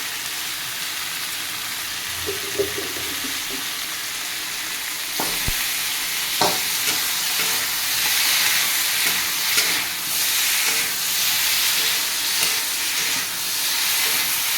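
Potato curry with spices and a pinch of sugar sautés in a pan, a loud, steady sizzle with occasional spatula scrapes and knocks that swells into a stronger hiss partway through.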